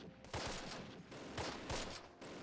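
Bursts of machine gun fire from the Close Combat war game crackle in a quick run of distinct shots, moderately loud and unaccompanied.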